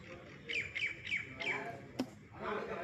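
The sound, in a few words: sparrow calling from above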